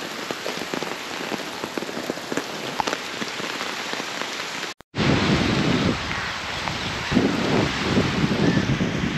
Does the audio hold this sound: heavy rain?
yes